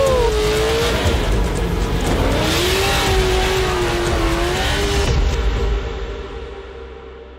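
A drift car at Irwindale Speedway howls through a slide, its tires squealing in a long wavering whine over loud engine roar before it fades into the distance.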